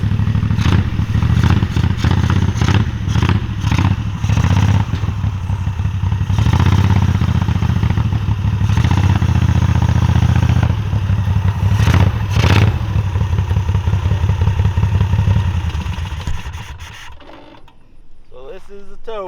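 The engine of a buggy tow rig runs close and loud with a rattling, clattery idle and uneven pulses. It fades down near the end, leaving quieter rustling.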